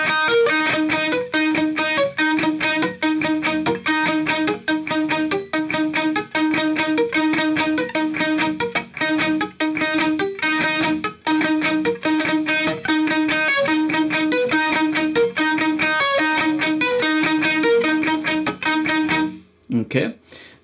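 An electric guitar plays the opening run of the solo, a fast, dense stream of distorted notes going for about twenty seconds at steady loudness before cutting off.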